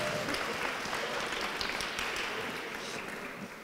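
Audience applause in a hall, dense steady clapping from many hands that holds strong throughout and eases slightly toward the end.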